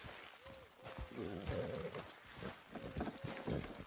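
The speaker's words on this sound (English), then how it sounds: "Good horses!" Horse hooves clip-clop in a steady rhythm in the video game Red Dead Redemption 2 while people talk and call out over them, with a few whinny-like tones.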